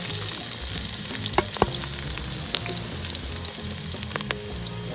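Chopped green onion, green garlic and chilies fry in hot tempering oil for a village-style Manchurian, with a steady crackling sizzle, occasional sharp pops and stirring scrapes, close and fairly loud.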